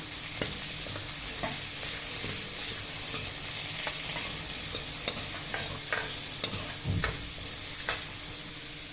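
Curry leaves crackle and sizzle steadily in hot oil for a pumpkin kara kuzhambu, with a dense broadband hiss and scattered sharp pops and spatters throughout, close and fairly loud with no voices.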